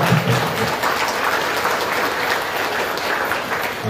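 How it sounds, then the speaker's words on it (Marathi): Loud, sustained clapping from a crowd welcoming a Jagadguru at a gathering in Baramati, a dense, even roar of applause that carries on throughout. "जितकं जोराने टाळ्या वाजवा तितकं जोराने वाजवा"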